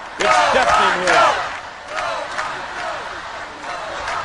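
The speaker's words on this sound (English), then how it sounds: "You hear that tremendous crowd." A packed crowd cheers at a wrestling arena before a steel cage match. Loud rhythmic chanting and shouts open the clip, then ease into a quieter, steady roar.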